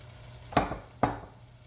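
Butter hits a hot pan for garlic shrimp, two quick sizzling bursts in close succession that fade into a low hiss.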